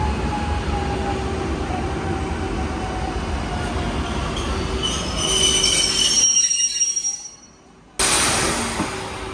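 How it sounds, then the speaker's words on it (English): A modern air-conditioned commuter train in Poland rolls steadily on the rails with a loud, sustained rumble and high wheel squeal, then drops abruptly quieter for a second before the noise returns. "Let's go on the train."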